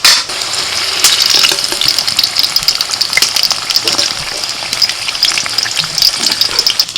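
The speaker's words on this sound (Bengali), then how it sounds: "লাল লাল আলু ভাজা" Red potatoes sizzle and crackle steadily in hot oil, a constant bright hiss with small pops, close by and fairly loud throughout.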